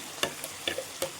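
Masala frying in a pan for a homemade non-veg dish, with three sharp scraping stir strokes over a soft, steady sizzle.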